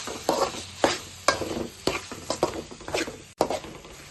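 Spoon stirring mashed peas into pav bhaji in a pan, with repeated scraping strokes at an irregular rhythm over a soft, steady sizzle, close and moderately loud.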